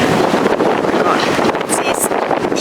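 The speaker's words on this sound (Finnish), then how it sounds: "Apua, täällä on hirveä tuuli." Strong wind blasts over the microphone outdoors on a sunny, warm autumn day, a loud, steady rumbling roar with no break.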